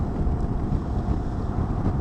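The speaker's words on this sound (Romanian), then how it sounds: "Cea mai mare problemă e vântul ăsta, mă." Strong wind buffeting a microphone on a road trip from Hungary toward Czechia, a steady low roar with constant rumbling gusts filling the whole stretch and no voices.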